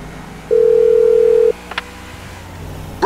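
A single steady electronic phone tone from a Grand Theft Auto V call placed on speakerphone, lasting about a second and fairly loud, followed by a couple of brief clicks and quiet in-game background.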